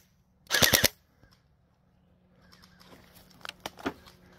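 A YAGEE DGR LEI gel blaster fires a triple burst outdoors near bushes: one loud, close rapid cluster of three pops, then quieter scattered snaps and rustling afterwards.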